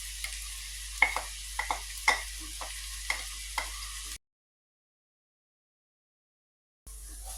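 Grated carrot is tipped into onion frying in a pan for Transylvanian sarmale, making a steady crackling sizzle with several close spoon clinks and stirring scrapes, then an abrupt dead silence before the frying briefly resumes, with no speech.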